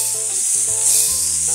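Chopped red cabbage and onion sizzle in a pan as they start to cook for a turkey with mustard sauce dish, a steady close hiss with some tonal hum running underneath, no voices.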